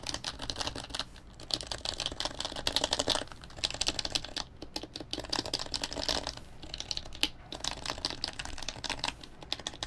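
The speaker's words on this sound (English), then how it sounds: "I'll do a little quick typing test for you guys" Fast typing on an HHKB Pro Hybrid keyboard, a dense, close run of crisp key clicks and thocks with brief pauses between bursts, no speech over it.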